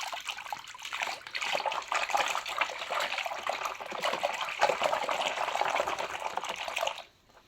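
Water in a foot-soak basin swishes and trickles as shower gel is mixed in by hand, a steady close splashing wash for about seven seconds before stopping abruptly.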